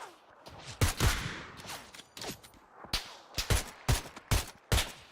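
Bursts of video game gunfire crack out loud and close in an uneven rhythm: a few scattered shots, then a quicker run of sharp reports toward the end.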